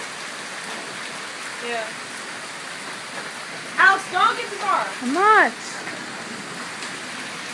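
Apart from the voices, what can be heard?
hard rain during a thunderstorm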